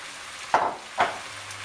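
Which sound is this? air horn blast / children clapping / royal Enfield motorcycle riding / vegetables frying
vegetables frying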